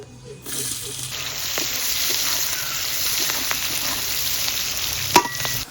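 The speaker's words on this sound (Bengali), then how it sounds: "মাংস রান্না করার জন্য ফোড়ন দেবো দারচিনি, এলাচ, লবঙ্গ, শুকনো লঙ্কা আর কাঁচা তেজপাতা।" Whole spices of cinnamon, cardamom, cloves, dried red chillies and fresh bay leaves frying with chopped onion in oil for a meat curry, a loud, steady close sizzle with a few small clicks and knocks.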